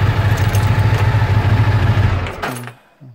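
A 1998 Ducati ST2 motorcycle engine idles with a steady, loud, close rumble, then is switched off and quickly dies away, with a brief clunk afterward.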